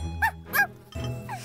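Small cartoon dog yipping in an animated kids' show, three short high-pitched barks in quick succession, clear and close with light tinkling background music.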